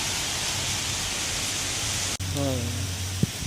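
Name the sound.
heavy rain pouring in Thailand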